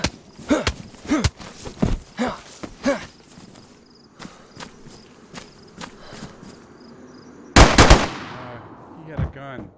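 Rapid bursts of gunfire from a zombie video game crack out in quick clusters, then sparser shots and a loud final volley near the end, heard without anyone talking.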